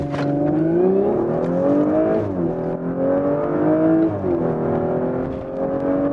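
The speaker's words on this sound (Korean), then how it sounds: "짧은 구간에서 시속 100km 주파하는 것 확인할 수가 있었습니다" An Audi S5 coupe TFSI in dynamic mode accelerating hard to 100 km/h, its engine loud and close from inside the cabin, revs climbing steadily with brief dips at gear changes and no voices.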